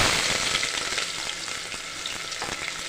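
Onions frying in oil with cinnamon, cloves, cardamom and star anise for a brown rice vegetable pulao, a dense continuous sizzle with light stirring scrapes, close and steady with no talk.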